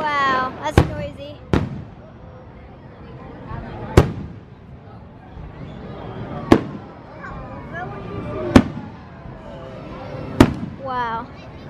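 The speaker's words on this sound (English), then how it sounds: "They do all these fireworks" Fourth of July fireworks bursting at Legoland, six sharp booming cracks spaced a couple of seconds apart, fairly close and loud, with crackle between and excited voices and someone talking throughout.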